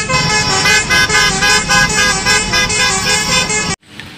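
A small blue toy school bus plays a loud electronic horn and engine effect, a run of bright rhythmic honks over a buzzing motor that stops abruptly just before the end.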